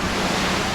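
Ocean surf at JBR beach in Dubai makes a steady, dense wash of wave noise with some wind buffeting the microphone, continuous and fairly loud with no distinct breaks.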